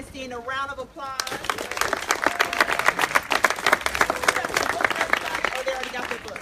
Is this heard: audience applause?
yes